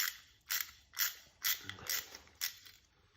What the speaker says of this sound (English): just don't allow yourself to slip away from the screw when you're loosening it